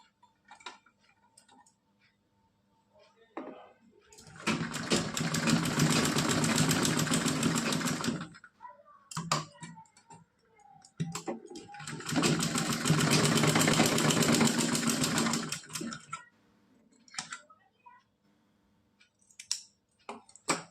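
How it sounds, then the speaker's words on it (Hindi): A sewing machine stitches a straight seam on net fabric in two sustained runs of steady, rapid whirring, each lasting a few seconds, separated and bracketed by quiet clicks and fabric handling. "इधर भी मोड़ेंगे यहाँ पे और इस पे सीधी सिलाई लगा लेंगे"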